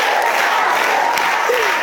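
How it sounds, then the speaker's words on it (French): Steady applause from a stand-up comedy audience, a dense wash of clapping that holds at even loudness throughout, with faint voices mixed in. "Elle applaudit aussi."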